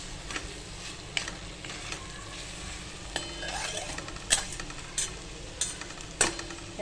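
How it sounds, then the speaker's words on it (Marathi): Masala with salt sautés in a pan, giving a low steady sizzle under a series of crisp scraping and tapping strokes from a spoon against the metal, some sharper than others, close by with no voices. "आपण मीठ परतून घेणार आहे त्या मसाल्यामध्ये"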